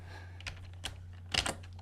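A few quick, soft keystrokes on a computer keyboard, close and quiet, in short bursts with pauses between.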